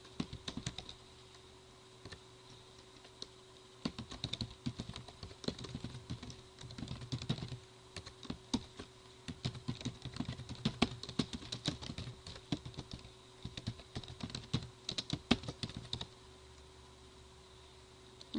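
Continuous typing on a computer keyboard while entering new records into a mail merge list, with rapid irregular key clicks in bursts and brief pauses, close and fairly quiet over a steady low hum, no talking.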